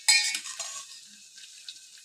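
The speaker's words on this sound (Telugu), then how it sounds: "ఈ స్పూన్తో నేను పిండి అనేది యాడ్ చేస్తున్నాను." A spoon stirs and scrapes flour in a wide bowl for a bhindi fry batter, a short close scratchy rustle that starts with a sharp scrape and then fades into soft, light stirring with no one talking.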